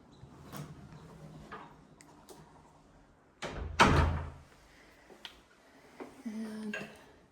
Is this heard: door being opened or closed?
yes